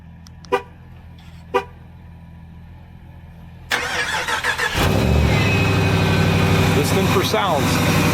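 A Hemi engine cold start after sitting: two sharp clicks, then the starter cranks and the engine catches into a loud, steady idle up close, with a person talking over it.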